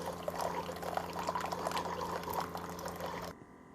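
A Keurig brewer dispenses an 8-ounce rinse through its spout, a steady loud pour of water running for over three seconds before cutting off abruptly into near silence.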